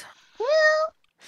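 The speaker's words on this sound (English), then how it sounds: "Oh, the kitten." A kitten gives one short, clear meow close by, with faint noise just before and after.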